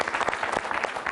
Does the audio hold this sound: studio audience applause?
yes